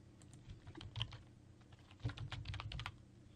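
Someone types a password on a computer keyboard, producing a quick, irregular run of soft key clicks, close and quiet, with no talking.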